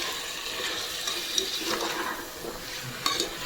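Chicken pieces get stirred into masala in a pan for a potato and chicken curry: a moderate frying hiss runs under scraping, shuffling stirring strokes, with a couple of sharper utensil knocks near the end; no talking.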